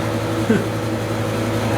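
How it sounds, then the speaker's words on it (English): A loud, steady roaring hum of a propane heater running close by in a workshop, constant throughout with a low droning tone. "the propane heater here, it's loud"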